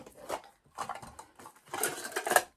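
Metal camping cook kit for an Appalachian Trail thru-hike being handled, with several short clattering, scraping bursts of pots and utensils close up, separated by brief silences.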